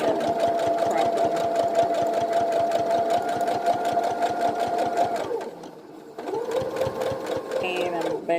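A sewing machine runs steadily as it stitches fabric for a face mask, with someone talking over the motor's fast, even hum. The stitching pauses briefly near the end, then starts again.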